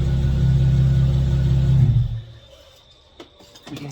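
A BMW 335i with a single ball-bearing turbo on its N54 engine idles with a loud, deep, steady rumble that cuts off abruptly halfway through, leaving near quiet with a few faint clicks.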